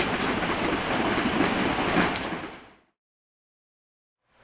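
Heavy, steady rain and rumbling storm noise roar loudly for nearly three seconds, then fade quickly into silence.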